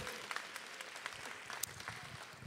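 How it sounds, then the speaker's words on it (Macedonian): Concert audience applauding after a song, a faint, steady wash of many hands clapping with a few sharper claps standing out, heard from a distance. "Аплауз ве молам"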